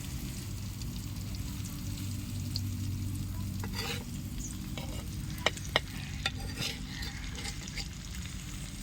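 Fish frying in plenty of oil in a pan, a steady close sizzle with scraping stir strokes and a couple of sharp clicks near the end, no voices.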